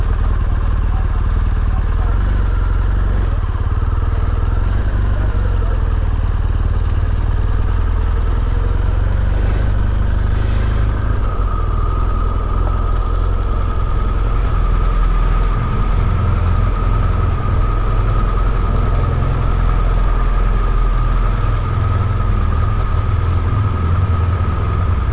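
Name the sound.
motorcycle engine while riding on the road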